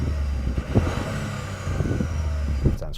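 A Toyota GR Yaris with a three-cylinder engine, heard from outside, gives a steady mid-pitched drone with small revving swells, fairly close and continuous.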